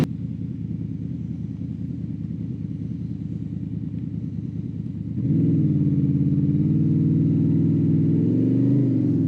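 A motorcycle engine runs in gear with a steady low drone, then rises to a louder, rougher rumble partway through, close and continuous with no talking.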